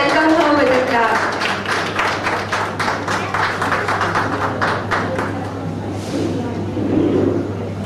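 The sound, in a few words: audience clapping to welcome chief guest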